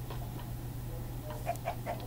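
Chickens in a video game giving a few soft, short clucks toward the end over a steady low hum, faint and unaccompanied by talk.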